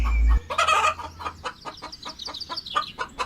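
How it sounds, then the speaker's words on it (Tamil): A hen clucks in quick, repeated bursts close by, a loud squawk followed by a string of rhythmic clucks with no speech over them. "வெடக்கோழி ஒன்று இருக்குது"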